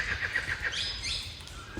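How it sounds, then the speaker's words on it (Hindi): A kingfisher in the Jim Corbett National Park jungle at Ramnagar, Uttarakhand, gives a rapid series of high, shrill call notes over a low, steady rumble of background noise. "ये किसकी आवाज़ थी? किंगफिशर।"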